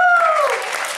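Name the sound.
audience applause and cheering at amusement park presentation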